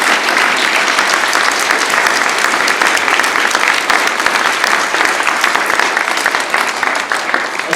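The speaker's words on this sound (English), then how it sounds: "could we please have another round of applause for our 9 participants?" Sustained, loud applause from an audience at a university three minute thesis competition in York, a thick continuous roar of many hands clapping that stays even for several seconds.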